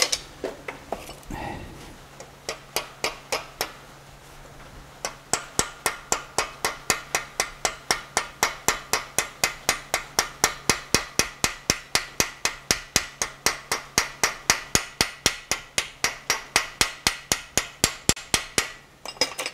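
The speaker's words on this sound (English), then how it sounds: "I'm going to drop us a piece of hot metal in there and see if we can't rivet it and or make a head for our rivet." A homemade rivet header forms the head on a hot metal rivet with a long, steady run of sharp, evenly spaced metallic hammering strikes, loud and close, after a brief clunk of the piece being dropped in and locked.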